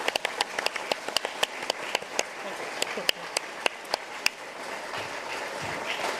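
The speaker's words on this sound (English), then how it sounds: "We want to give you all a big round of applause." Applause at a Norwegian Constitution Day luncheon in Ballard for the organizing committee, sparse sharp claps from a small group in a room, distinct individual hits that thin out and fade after a few seconds, with faint voices underneath.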